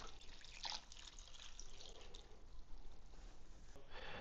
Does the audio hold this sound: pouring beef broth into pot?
yes